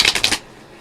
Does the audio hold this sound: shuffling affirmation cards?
yes